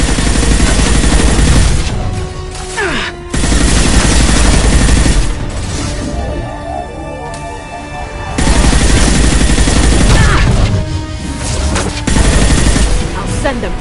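Heavy bursts of gunfire in Mass Effect Legendary Edition combat, loud and close, repeating in long dense volleys separated by brief pauses, with squad voices calling out over the shooting.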